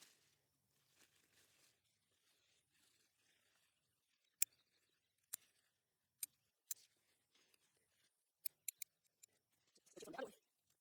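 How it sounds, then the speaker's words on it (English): Sweet potato vines are snipped off a garden plant with a series of sharp, isolated cutting clicks spaced a second or so apart in quiet surroundings, ending in a brief rustle of leaves. "I'm actually just cutting off the vines from"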